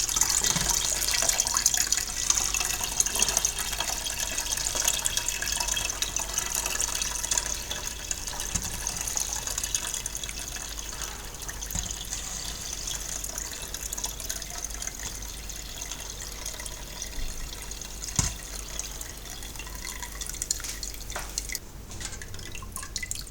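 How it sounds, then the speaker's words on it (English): Hot water pours from a kettle over steeped brewing grain, a steady splashing trickle that thins into scattered drips toward the end. "I'll use about half of this, about 1 litre, just to rinse out the rest of the goodness out of that grain."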